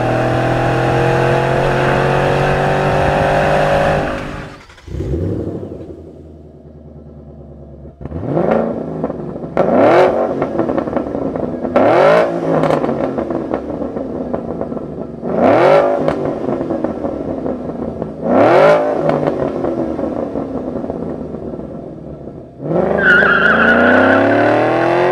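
A 2011–2014 Mustang GT V8 with a Borla aftermarket exhaust idles loudly, then is blipped through six sharp, throaty revs that rise and fall in quick succession before settling into a steady drone, close and without talk.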